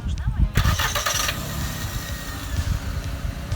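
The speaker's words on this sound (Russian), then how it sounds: "запусти двигатель" A car engine started remotely through a StarLine alarm cranks briefly and catches, then settles into a steady close idle, with a voice talking over it.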